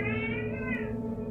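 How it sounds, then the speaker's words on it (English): A house cat meows once, a drawn-out wavering call over a steady low background hum, fairly close and clear with no talk. "That was my cat."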